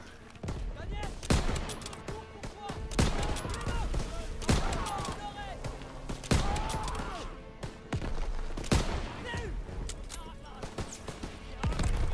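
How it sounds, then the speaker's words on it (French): Sniper rifle and other gunfire in the World War II shooter Call of Duty WW2, with sharp, loud shots going off repeatedly over a busy battle mix and some talk. "ça c'est un sniper ça par contre"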